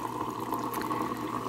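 Tap water running into a cup for a moment, a steady close pour with no talking.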